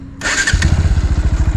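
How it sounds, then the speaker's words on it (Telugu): A Bajaj NS 125 motorcycle starts up: a brief starter whir catches and the engine settles into a close, steady, throbbing idle with a regular low pulse. "ఇప్పుడైతే బైక్ అయితే మళ్ళీ స్టార్ట్ చేద్దాము."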